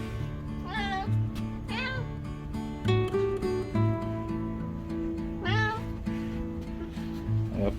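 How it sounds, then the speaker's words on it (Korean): A house cat that has slipped out a door meows several times in short, rising cries spaced a second or two apart, close and clear over a steady low hum. "몰래 따라 나와가지고 이놈의 고양이가."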